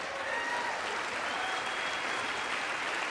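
A large crowd at a State of the Union address breaks into sustained applause, steady dense clapping heard at a moderate level throughout with no speech over it.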